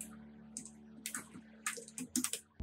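Keys clatter on a computer keyboard while an address is entered into an online application form, a sparse run of light clicks with short pauses, close and fairly quiet, with no voice.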